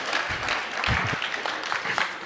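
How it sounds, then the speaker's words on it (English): An audience at a DEF CON hacking conference talk on circuit-board reverse engineering gives a scattered round of applause, a steady spread of many hands clapping at moderate volume from across the hall, without speech. "I know someone was clapping."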